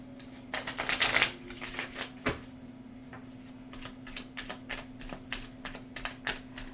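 Tarot cards being shuffled and drawn: a burst of dense riffling near the start, then a run of soft, separate flicks and taps as single cards are pulled and laid down over a steady low hum.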